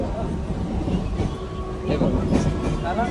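A moving slow train rumbles steadily with a low continuous roar and faint rattling, while a person talks over it.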